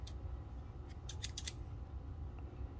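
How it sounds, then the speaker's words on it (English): Scissors snip fly tying material for a peacock bass fly, a quick series of about four crisp close cuts in the middle, against a low steady background hum, no speech. "when I cut this, I just go from the longest ones about there"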